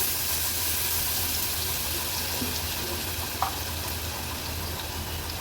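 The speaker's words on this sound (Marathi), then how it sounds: "थोडीशी तेलावर परतून घेऊया।" A ginger, garlic, green chili and coriander paste sautéing in a little oil in a pan, giving a dense, even sizzle that holds steady throughout with one brief clink partway through.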